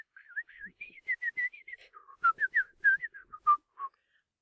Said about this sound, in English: put his hands in his pockets, threw himself back in the carriage, and whistled